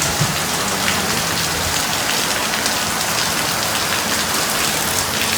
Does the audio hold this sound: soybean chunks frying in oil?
no